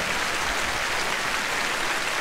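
Applause sound effect in a radio ad: a dense, even hiss of many hands clapping, loud and continuous without a break, with no voices over it.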